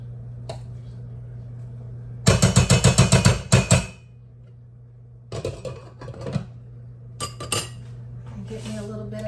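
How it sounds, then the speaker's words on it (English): Rice and chicken stir fry being served into a bowl gives close, sharp clinks and scrapes of a utensil on dishware in short bursts over a steady kitchen hum. "Gonna make me a bowl. Put the rice on the bottom here."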